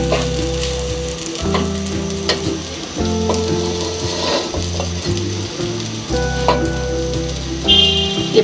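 Rice for chicken fried rice with vegetables frying in a frying pan makes a loud, continuous sizzle while a spatula stirs and scrapes it in repeated strokes, and a steady hum sounds underneath, with no voices.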